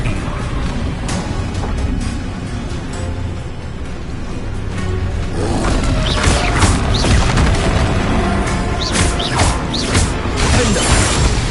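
Confringo blasting spell going off in Hogwarts Legacy combat: a dense, loud burst of crashing, whooshing impacts and debris over busy battle noise, building toward the second half with several sharp cracks.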